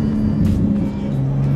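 A 2019 Porsche 911 GT2 RS with a low, steady exhaust burble running close and loud throughout, rough and rumbling with faint crackle under a continuous engine drone.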